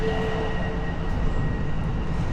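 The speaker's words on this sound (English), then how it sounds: "here we have an Amtrak train that goes to the north from 34th Street" An Amtrak train passes by near 34th Street in the South Bronx, New York City, giving a steady, moderately loud rumble with a faint high whine, without pauses or talking.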